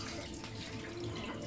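Water runs steadily from a tap onto grated coconut shavings in a bowl, a continuous close splashing pour for the whole short stretch, with no talking.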